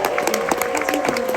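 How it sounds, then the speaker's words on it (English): Audience applause at a live Hollywood Squares-style game show on a fan cruise, a steady dense wash of clapping from a crowd, sustained and fairly close throughout the short burst. "your part to participate in is clapping when they get that square"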